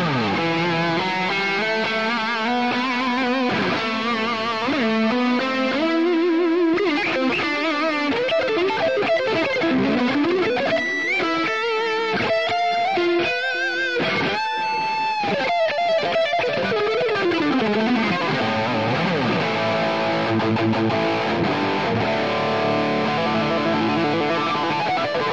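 Electric guitar played through a cranked Plexi amp model in Neural Amp Modeler, a continuous distorted, sustained riff with bends and chords, loud and unbroken with no talking.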